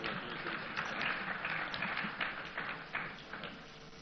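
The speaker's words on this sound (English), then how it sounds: "A round of applause for him." Applause from the audience at a CEO summit award ceremony in Ghana, a faint, distant patter of many hands clapping that tapers off, with no voices over it.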